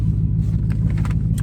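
Steady low rumble of a car cabin while driving, a constant road-and-engine drone filling the background with no talk.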